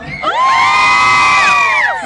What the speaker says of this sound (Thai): คนสุดท้ายเมื่อกี้จะมีเสียงกรี๊ดร้องรับ